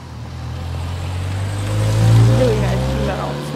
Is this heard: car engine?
yes